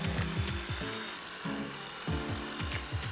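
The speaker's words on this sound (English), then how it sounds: "Now I can go with the jigsaw, cut along those lines, drop it all down." A jigsaw cuts along marked lines during an elevated bed build in a converted Sprinter van, its motor droning with rapid rhythmic chattering strokes in bursts, close and fairly loud, with no talking.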